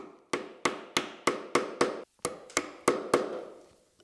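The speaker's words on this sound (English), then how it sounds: "using a 3/8 and a 1/8 chisel to remove that waste" Chisels of 3/8 and 1/8 inch chopping out dovetail waste wood, about ten sharp evenly spaced mallet-driven strikes, close and fairly quiet, with one brief gap midway.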